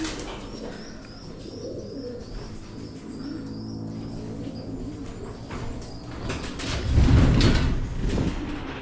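Pigeons coo in a backyard loft with weaned young birds. Soft, repeated low cooing runs under rustling and wing movement, with a louder bump and shuffle near the end.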